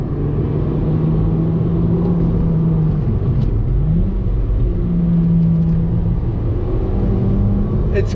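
Nissan Sentra NISMO sedan with a six-speed manual rolling onto the throttle, a steady, loud engine drone with a gently rising and shifting tone, close-up and continuous with no talking.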